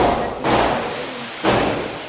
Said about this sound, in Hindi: देखिए कितना ज़्यादा शोर आ रहा है, बहुत ज़्यादा शोर आ रहा है पटाखों का